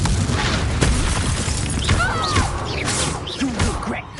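Confringo blasting spell in Hogwarts Legacy, a dense, roaring explosive burst of magical fire with swishing spell effects and combat noise throughout, steady and loud without pause.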